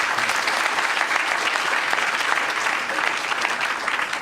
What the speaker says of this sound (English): Please, a round of applause for both Gary and Ben for taking part in this